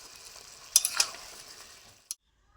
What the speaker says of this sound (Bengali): মাংসটা কষা হইতেছে। গ্রেভি করে রান্না করব।